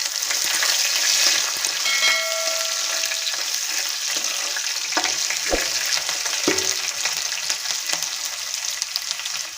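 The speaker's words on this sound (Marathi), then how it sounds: "आपण यामध्ये घालणार आहोत कांदा कांदा तेलामध्ये छान परतवून घेणार आहोत" Onion frying in hot oil in a pan, after peanuts for kanda poha, makes a loud continuous sizzle with a few stirring clinks and scrapes partway through and no talking.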